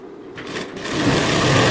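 A sewing machine stitches tucks into the belt of a blouse, running steadily and close up and growing louder as it picks up speed, with no talking.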